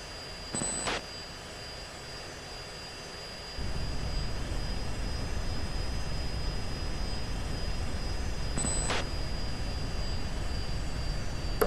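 Steady broadband roar of an F-16 jet engine on the ground in the Falcon 4 BMS flight simulator, idling loud and close, with the rumble stepping up a few seconds in and holding; two brief clicks stand out.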